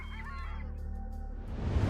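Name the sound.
wild birds honking at Ulan Suhai Lake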